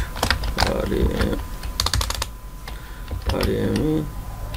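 Someone types an address on a computer keyboard in bursts of quick, close key clicks with short pauses between, and a voice talks at times under the typing.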